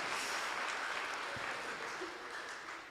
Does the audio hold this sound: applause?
yes